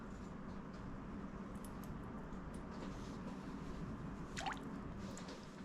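Warmed coconut oil, melted and only slightly warm, pours into a batter of gluten-, grain- and dairy-free waffle buns: a steady, quiet liquid wash with one brief drip partway through.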